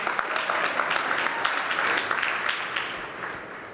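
A crowd at a tech keynote claps steadily for a few seconds, a dense patter of hands that fades slightly toward the end.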